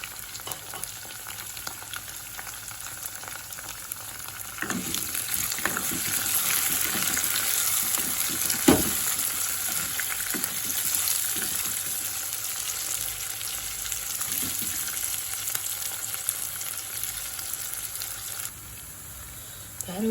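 Onions sauté in hot oil for a fish curry, a continuous close sizzle that swells louder after a few seconds, punctuated by spoon scrapes and stirring clatters, with no talking heard.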